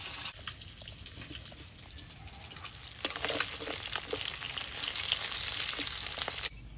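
Fish frying in oil in a pan, a soft steady sizzle with faint crackles that grows slightly louder midway and then cuts off, with no voices.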